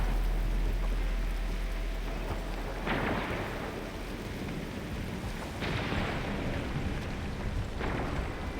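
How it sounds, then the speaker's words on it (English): Heavy rain pours steadily through an Arknights Endfield game scene, a dense continuous hiss with deep thunder-like rumbles swelling in twice, no voices over it. "It's raining harder. I can't hear anything except for the rain."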